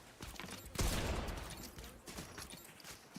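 A loud burst of mammoth pistol fire in a video game, followed by scattered fainter shots and game sounds.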